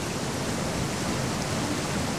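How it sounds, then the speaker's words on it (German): A loud, steady rush of a waterfall in the Risen 2 video game fills the whole stretch, broadband and unbroken, with no talk over it. "Wasserfall wird ein bisschen laut"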